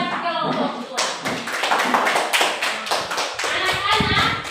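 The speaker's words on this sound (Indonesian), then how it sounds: "kita tepuk tangan buat kelompok 2." Schoolchildren in an Indonesian classroom clap their hands for a presenting group, brisk uneven rhythmic clapping close by with children's voices mixed in.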